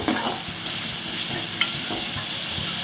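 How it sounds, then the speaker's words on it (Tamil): Salted green beans stir-fry (beans poriyal) being stirred and tossed in a hot kadai, with a continuous soft sizzle under scraping spatula strokes and a sharp clink near the middle, close and steady without talk. "சால்ட்டு போட்டு நல்லா மிக்ஸ் பண்ணிவிடுங்க"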